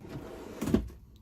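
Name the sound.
drawer opening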